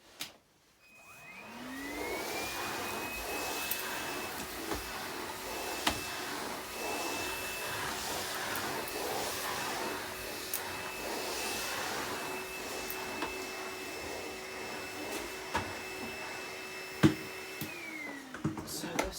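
A Numatic Henry cordless HVB160-2 vacuum cleaner spins up and runs steadily for about sixteen seconds, with occasional knocks against the floor, before winding down near the end.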